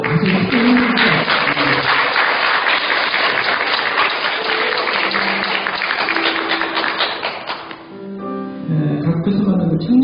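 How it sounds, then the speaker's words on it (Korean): A church congregation claps steadily and loudly for several seconds during a Sunday service, filling the room, then the applause fades as music continues softly underneath. "우리가 큰 박수 한번 보내드리도록 하죠."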